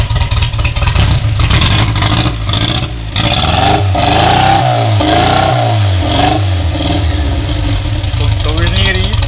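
Škoda 120 car engine revving loudly through a poorly damping muffler, rising and falling in several throttle blips with people talking over it close by.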